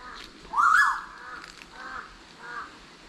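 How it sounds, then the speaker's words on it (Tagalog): A crow gives one clear caw followed by two fainter, shorter calls, heard at a moderate distance outdoors near bamboo. "may ibon po"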